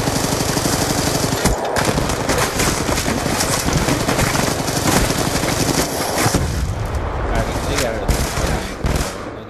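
Sentry gun in a first-person shooter game firing in a back alley, a dense, loud continuous rattle of automatic gunfire lasting several seconds that thins out near the end, with voices mixed in.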